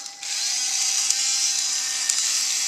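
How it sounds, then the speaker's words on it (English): Plastic chest drill on a Deluxe Thundersaurus Megazord toy spinning when turned by its button, giving a steady high-pitched mechanical whir with a faint tonal hum that runs continuously, close and alone, with a couple of small clicks. "you can use this button on the chest to manually spin the drill"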